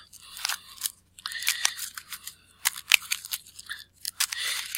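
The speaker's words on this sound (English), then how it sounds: "and then I shuffle the encounter deck." Encounter deck of game cards being shuffled for a Lord of the Rings card game, crisp riffling and flapping bursts in quick repeated rounds, close and bright.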